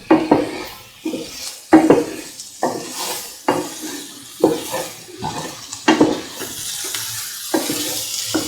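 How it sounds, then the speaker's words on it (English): Cottage cheese capsicum stew ingredients with turmeric are stirred in a pan, giving close, repeated clinks and scrapes of a spoon against metal in an uneven rhythm, with no talking. "Mix all the ingredients thoroughly."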